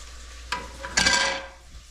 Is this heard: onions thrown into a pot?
yes